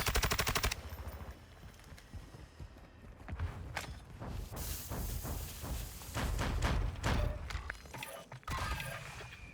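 Rapid bursts of automatic gunfire in a shooter video game with a UAV and a gas station landing spot, with sharp repeated shots opening loudly and then scattered volleys mixed with game effects throughout.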